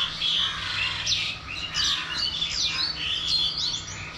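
Several small birds chirp and tweet in quick, overlapping calls on a morning outdoors, fairly close and continuous over a steady low background hum, with no talking.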